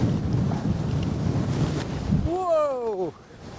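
Strong gusting wind roars across the exposed summit ridge of Longside in the Lake District's Northern Fells, a steady loud rush buffeting the microphone, with a brief rising whistle-like tone near the end.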